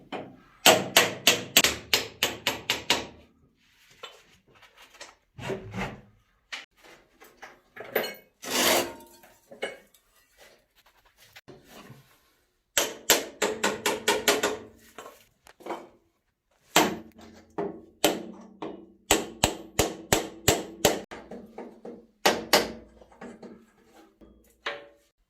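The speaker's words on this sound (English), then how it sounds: "here we're using a brass drift to not damage the threads on the bolts" A brass drift hammered to knock bolts out of an International TD6 crawler tractor, with bursts of rapid, ringing metallic blows close by, separated by quiet pauses and scattered single strikes.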